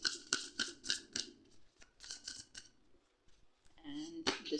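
Tarot cards handled and drawn during a reading, heard as close crisp snapping and flicking taps in quick bursts, with a voice speaking briefly near the end.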